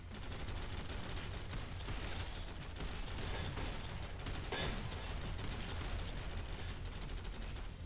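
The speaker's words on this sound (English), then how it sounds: "I hate these fucking crystal turrets." Crystal turrets fire in the shooter game Synthetik amid a dense, continuous barrage of gunfire and bursts, loud and unbroken for the whole stretch.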